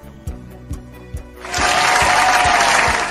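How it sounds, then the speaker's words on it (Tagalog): Regular thumps of foot stomping on a floor, about six heavy beats spaced roughly half a second apart, then a burst of broadband clapping-like noise that fills the second half. "Tama ang iyong ginawang pagpadyak."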